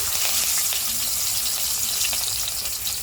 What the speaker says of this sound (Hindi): इसका कलर चेंज होने तक हम अच्छे से इसको फ्राई कर लेंगे